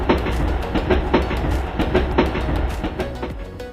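A train passes along a railway line in Matara, Sri Lanka, its wheels beating a fast, regular clickety-clack over the rails, loud and close throughout with a heavy rumbling roar underneath.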